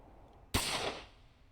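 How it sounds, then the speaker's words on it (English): A single sharp gunshot from the visual novel game Chaos;Head NoAH cracks suddenly out of quiet and trails off in a brief echoing tail. "Then Bond heard a gunshot."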